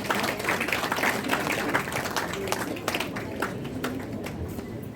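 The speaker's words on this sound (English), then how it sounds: "May we have a huge round of applause." Audience applause at a business excellence award ceremony, sustained irregular clapping from a room of people with sharp individual claps standing out, steady and moderately distant throughout.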